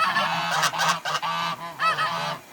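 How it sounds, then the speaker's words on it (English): Several geese honk excitedly near a filling water pool, a run of loud, overlapping nasal calls in quick bursts with short gaps between them. "I'm just filling up the pools for the geese. They're excited to have some fresh water"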